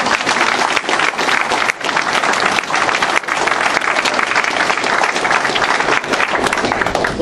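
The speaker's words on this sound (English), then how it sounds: "Let's give them a round of applause" A large crowd at a Kentucky governor's speech bursts into loud, sustained applause for working men and women, a thick, continuous roar of clapping lasting around seven seconds with no voices over it.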